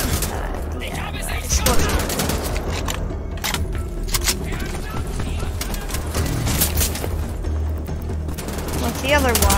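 Rapid gunfire bursts in the video game Wolfenstein: The Old Blood, dense and loud with overlapping shots and booms mixed with game noise throughout.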